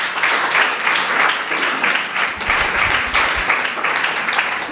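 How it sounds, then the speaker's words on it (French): An audience at a French-language panel talk applauds its guests, steady sustained clapping from many hands filling the room at close range, without a break. "Vous pouvez les applaudir encore une fois,"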